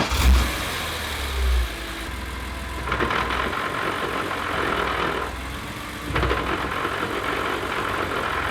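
A car engine with a lightweight flywheel is revved while in gear, short low rumbling bursts rising and falling over a steady idle, with a couple of sharper surges, heard close with no talking.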